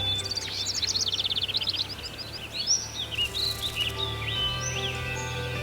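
Rapid bird trills and scattered chirps ring out over a low steady hum, busiest at first then thinning to intermittent calls.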